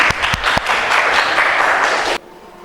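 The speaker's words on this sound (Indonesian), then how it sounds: "Tepuk tangan" A classroom of students claps together for about two seconds, dense and steady with a few sharp near claps at the start, then stops abruptly, leaving quiet room tone.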